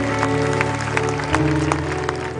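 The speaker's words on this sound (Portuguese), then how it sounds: "Aplauda Jesus." A church congregation claps in a brief burst of applause over sustained musical tones, lively and fairly close.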